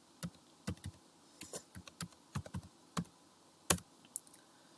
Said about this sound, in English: So for that you have to type Swiss model.